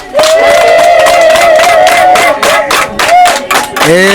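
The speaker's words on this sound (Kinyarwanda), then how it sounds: "Ariko mubanze muhe abadukurikiye amashyi n'impundu." Crowd applause with high ululating trills rises loud and sustained, clapping and cheering blended in a dense, continuous wash that ends with a sharper burst of voices.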